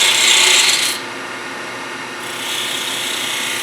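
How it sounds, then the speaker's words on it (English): A 3/8 spindle gouge cuts a bead into wood spinning on a lathe. It makes a close, steady rasping hiss that is loudest for the first second, drops off briefly, then picks up again at a moderate level. "my go-to tool for cutting beads of any size, believe it or not, is this 3/8 spindle gouge"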